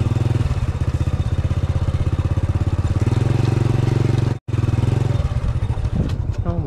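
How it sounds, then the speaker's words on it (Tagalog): A dirt bike motorcycle putters steadily through muddy ground near a river, its close engine note running in a continuous throbbing rumble, cutting out for a brief moment before resuming. "Kahit sa putikan eh, nadadala mo yung motor mo"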